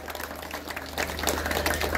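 An audience at a temple felicitation honouring a veteran Dashavatar theatre actor breaks into clapping, scattered at first and then swelling into fuller, steady applause over a low electrical hum.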